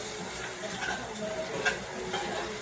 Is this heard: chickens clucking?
no